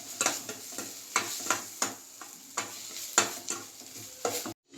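Food for lemon rice sizzles in a hot pan while a utensil stirs and scrapes in quick, irregular strokes, close and fairly loud.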